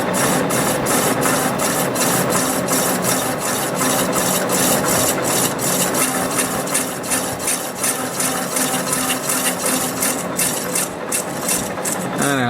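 A carbide cutting tool scrapes material away in a continuous, dense rasping at close range, with a faint rhythmic pulsing throughout.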